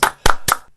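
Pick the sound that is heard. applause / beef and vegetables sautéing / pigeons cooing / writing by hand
applause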